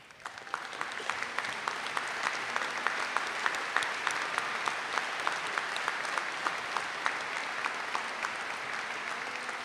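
Audience applauding cum laude graduates at the Chesapeake High School commencement in June 2023, a steady, dense crowd clapping that lasts several seconds with sharp individual claps standing out, and no speech.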